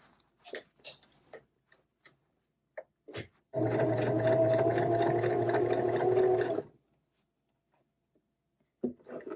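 A sewing machine top stitches a lined zipper pouch held with pins, running in one steady burst of about three seconds, with light clicks and handling sounds before and after.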